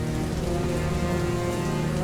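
Steady heavy rain falls throughout the rainy season, a dense, even wash that stays loud and unbroken, with no voices over it.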